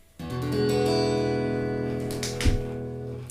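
A single strummed open E dominant seventh chord on guitar rings out and sustains, with a light scrape of the strings near the end as it fades.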